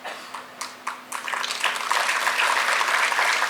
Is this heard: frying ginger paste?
no